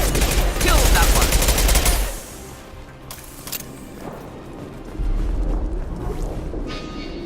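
Rapid bursts of automatic gunfire in the Mass Effect 2 video game, loud and dense for two seconds, then a quieter stretch with scattered shots before the firing surges again.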